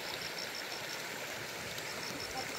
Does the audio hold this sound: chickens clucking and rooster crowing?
no